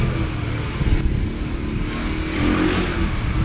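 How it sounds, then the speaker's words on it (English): A 2018 Amstar Nostalgia 49cc Cafe Racer motorcycle engine runs steadily and loud up close, its drone shifting slightly as the rider changes down through the gears, with no voices. "I really don't like downshifting with it though"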